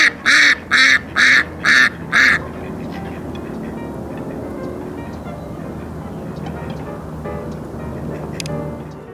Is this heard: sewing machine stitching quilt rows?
no